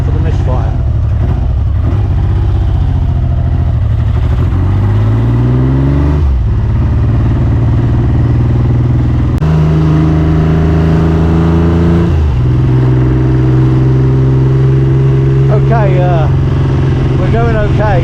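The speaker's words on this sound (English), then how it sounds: "Watch out for the misfire." A Triumph Trident T160 motorcycle with a misfiring engine is ridden on a summer road in the Peak District. Its loud close engine note rises and falls through revs and gear changes, with uneven, stumbling running and wind rumble. A rider talks over it.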